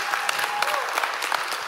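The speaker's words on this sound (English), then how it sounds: "Give these guys a big round of applause" A church audience applauds two servant leaders at a pastors' assembly, a dense steady clapping from a sizable crowd throughout.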